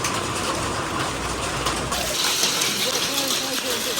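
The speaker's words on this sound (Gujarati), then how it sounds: "આ અવાજ આવે છે વરસાદનો" Rain mixed with hail pours down on a hot afternoon, a close, continuous, loud hiss and patter that holds steady throughout.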